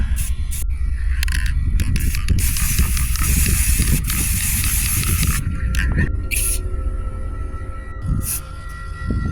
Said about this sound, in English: So, red spray paint.